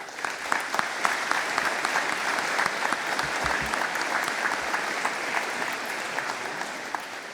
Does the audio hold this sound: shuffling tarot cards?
no